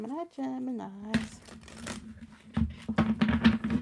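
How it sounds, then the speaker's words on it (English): Tarot cards shuffled by hand in quick crinkly bursts after a brief spoken phrase, the riffling close and uneven with voice over parts of it. "Let's get some shuffles in for our Geminis."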